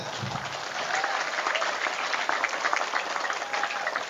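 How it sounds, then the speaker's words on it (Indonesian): Sustained applause from an audience at a Quran memorization graduation ceremony at an Islamic boarding school, a dense steady patter of many hands clapping throughout without a break. "Jadi tepuk tangan."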